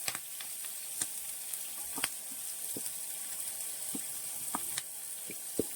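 Green chillies, garlic and ginger sizzle in a pan for a Kerala-style dish, a soft, steady frying hiss broken by occasional sharp crackles and pops.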